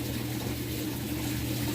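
A Samsung top-load washing machine, model WA45H7000AW/A2, fills with hot water in a constant rushing flow with a low pump hum, close and steady throughout.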